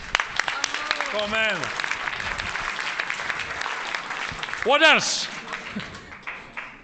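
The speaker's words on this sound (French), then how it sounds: "On peut applaudir, non?" A studio audience at a French courtroom-style television debate breaks into sustained applause, with voices speaking and calling out over the clapping throughout.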